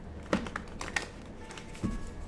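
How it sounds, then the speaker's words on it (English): Heavy tarot cards being shuffled by hand in a non-traditional way, giving a few soft, scattered clicks and papery taps close by, quiet and irregular, with no talking. "let's shuffle the cards first for Taurus"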